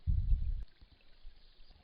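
A syringe forces clean water backward through a Sawyer Mini water filter, giving a short, quiet gush of squirting water at the start, then near silence with faint handling noises.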